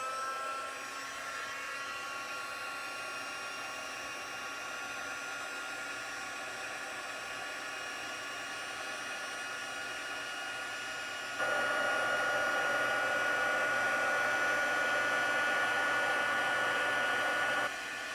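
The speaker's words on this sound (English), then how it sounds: "let me grab the embosser. Now this is going to get loud." A heat embossing tool blows hot air during a paper-crafting session, giving a loud, steady, hair-dryer-like whoosh. Partway through it gets noticeably louder and higher and continues that way until it shuts off near the end.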